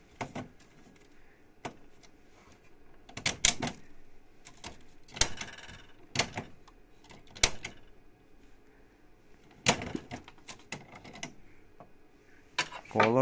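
A Canon G series inkjet printer's cartridge carriage moving, with quiet intermittent mechanical clicks and short whirring bursts spaced unevenly over a low background hum.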